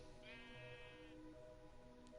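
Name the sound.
sheep bleating in Minecraft-style building game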